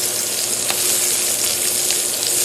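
Sliced onions fry in white oil with whole spices (bay leaf, cloves, cardamom, cinnamon) in a wok, giving a loud, steady, close sizzle with occasional stirring scrapes and no talking.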